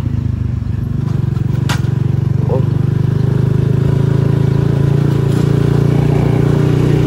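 A Kuba CG 100 R Gold motorcycle with a lowered stance, recorded while riding with the fuel at the rear, gives a loud, continuous close-up engine drone with a steady pulsing rhythm throughout.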